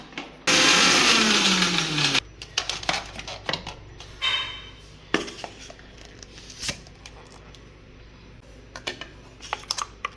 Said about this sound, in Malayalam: ഇനി ഒന്നുകൂടെ ഒന്ന് അരച്ചെടുക്കാം.